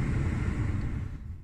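Kona Electric car heater fan blowing steadily on fan speed 2, a continuous broadband whoosh with low rumble inside the cabin, fading slightly toward the end.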